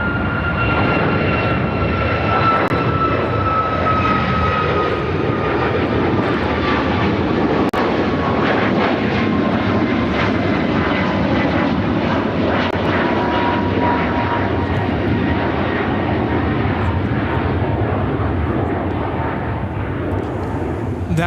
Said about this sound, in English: 1332 taking off to Boston on the MAX 8.